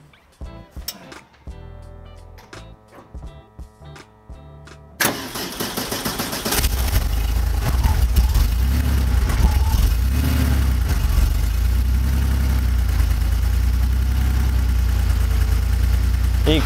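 An air-cooled 1994 Porsche 964 engine cranks over after a few quiet clicks, then catches and settles into a loud, steady, close idle that holds for the remaining ten seconds with no talk over it.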